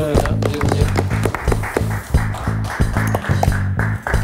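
An audience at a company poker tour event applauds as a player leaves the table, with steady, close clapping throughout and a few voices mixed in.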